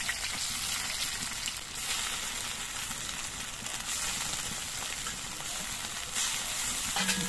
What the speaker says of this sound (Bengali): কাঁচা লঙ্কাটা আমি একটুখানি ভেজে নিয়ে এর মধ্যে আমি কচু বাটাগুলো দিয়ে দিচ্ছি।